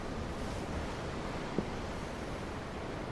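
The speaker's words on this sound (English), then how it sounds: "I'm looking at the ocean. The ocean? Yeah. The waves." Ocean waves make a steady, broad wash of surf, even and continuous with no distinct crashes and no voices.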